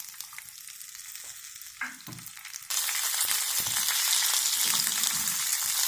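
Dates frying gently in a pan over low heat, quiet at first with a few soft knocks, then a sudden loud steady sizzle that holds to the end.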